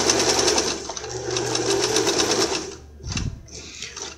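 A Singer sewing machine stitches steadily and close up, its motor whirring under a rapid needle rhythm for about three seconds, then briefly slowing and stopping before running again.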